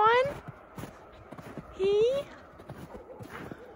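A saddled horse gives soft nickers while its hooves clip-clop nearby, with a person speaking briefly over the sounds.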